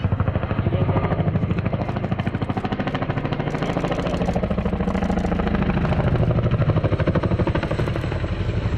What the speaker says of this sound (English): So, if the aircraft running up now, you'll notice the nose coming up to decelerate through 85 knots